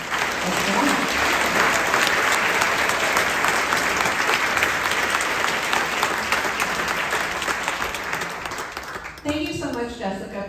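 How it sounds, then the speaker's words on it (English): Audience applause after a presentation at a club, a dense, loud clatter of clapping from a crowd lasting about nine seconds, then a voice speaking as it fades. "Give one more round of applause."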